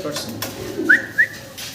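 Andalusian-coloured pigeons in a loft give two short, close calls amid faint background voices.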